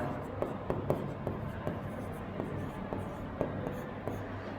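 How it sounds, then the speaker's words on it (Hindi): Chalk or marker writing on a classroom board during a math lesson, heard as soft, close scratching and tapping strokes in short bursts, quiet and fairly regular, with no talk over it. "थोड़ा यहाँ लिख देते हैं हम।"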